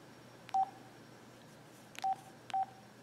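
Three short electronic keypad beeps from a Sanyo SLP-2400 cell phone, one alone and then two in quick succession about a second and a half later, clear and close against a quiet background.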